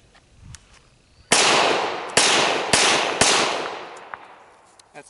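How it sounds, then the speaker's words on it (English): An unsuppressed FNX-45 Tactical pistol fires four loud, sharp shots in quick succession, each cracking report trailing into a long ringing echo. "I'm going to shoot a couple rounds to give you an idea of what it sounds unsuppressed"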